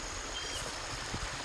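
Rainwater from a night of heavy rain runs through a pond, a soft, steady rushing and trickling flow that continues evenly and fairly faintly throughout.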